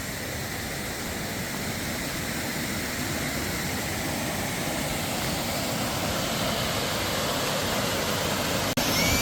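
A forest waterfall stream at Kothayar rushes as a dense, constant roar of falling water, loud and unbroken throughout with no voices.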